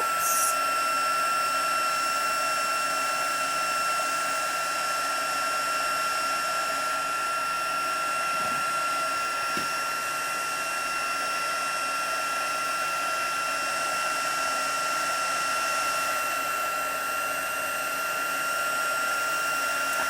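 Heat tool blowing hot air to set stamped imagery on canvas, a steady high whine and rushing airflow that runs unbroken throughout, close and fairly loud, with no voices.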